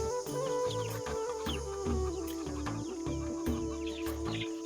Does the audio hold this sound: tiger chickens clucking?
yes